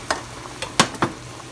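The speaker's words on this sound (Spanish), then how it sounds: "Lo meneamos un poquito." Rice being stirred in a pot of water that has just been added, heard up close as four or five separate scraping, sloshing strokes spread over about a second and a half, with no voices.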